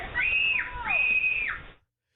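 A child's scream from a played recording, two long high-pitched shrieks in quick succession with thin, band-limited tone, loud and alone before cutting off abruptly.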